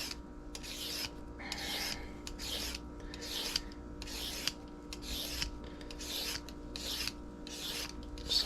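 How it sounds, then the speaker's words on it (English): Vegetables being peeled with a peeler in quick repeated strokes, about a dozen rhythmic rasping scrapes at a steady pace, close and clear, with no voices. "Just kind of making quick peeling strokes."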